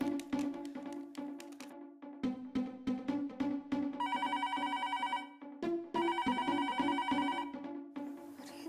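A telephone rings in a household scene, two sustained electronic ringtone bursts over rhythmic background music, clear and fairly loud.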